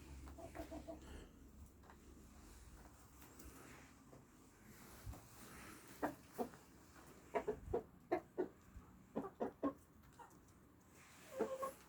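Soft clucking from a rooster comes in a quick series of short, sharp notes over quiet, distant background noise in a garden.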